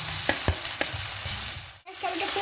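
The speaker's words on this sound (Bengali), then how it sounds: "এবার হালকা একটু ভাজা ভাজা করে নেবো" Onion and tomato with salt frying in a pan for potato biryani, a steady close sizzle broken by a few spoon-against-pan clicks and a brief pause, with no talk.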